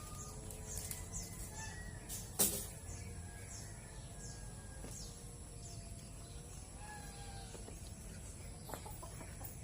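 Chickens in a coop cluck and crow steadily at moderate distance, a constant flock chatter with one louder sharp call near the start, no voices present.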